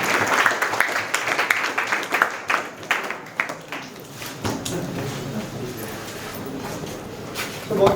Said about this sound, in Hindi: प्लीज़ आप लोगों की तालियों के बीच।